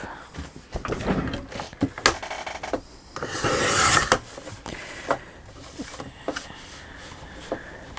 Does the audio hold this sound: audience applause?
no